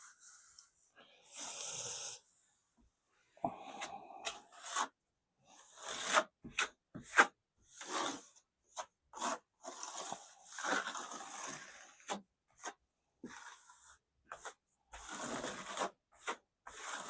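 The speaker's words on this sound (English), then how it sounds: "Just going to use this little trowel again while I'm in here." Small trowel spreading plaster texture on a sample board for a commercial job: intermittent close scraping and wet smearing strokes in short bursts with pauses, fairly quiet, with no talk.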